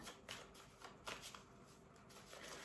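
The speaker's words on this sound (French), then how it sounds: "Je vais essayer de mélanger bien un peu ces cartes hein, comme je peux." Tarot cards being shuffled by hand during a French cartomancy reading: a steady run of soft papery riffles and slides with light taps, close and fairly quiet, with no talking.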